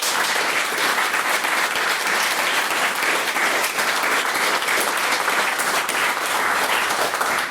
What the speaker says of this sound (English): please give a round of applause for everyone who spoke tonight